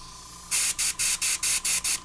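Iwata airbrush spraying paint in about seven short, even bursts of bright airy hiss, close and clean with quiet gaps between each burst.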